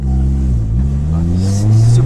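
Engine of a Honda Integra Type R DC2 on its original motor, running with a steady mid-pitched hum that rises smoothly in pitch as it revs, heard from inside the car, loud and close.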